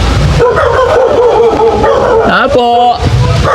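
A dog yips and whimpers in a home doorway while people call out loudly over it; short strained vocalizations, with a rising whine near the end, mixed under continuous talk.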